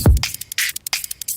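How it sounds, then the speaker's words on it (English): Bright bursts of synthesized white noise pulse in a choppy rhythm after a low thump, hissing on and off in short gated chunks. "Let's go with white noise, bright white, and let's see how it sounds."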